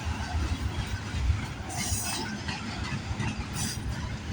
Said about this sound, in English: I know this train's heading out west, not going to Brampton.